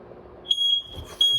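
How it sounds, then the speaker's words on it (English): A smoke alarm goes off at four in the morning with a piercing high electronic beep, sounding in short repeated bursts close to the listener. "it is fucking 4 in the morning and there's a fire alarm going off"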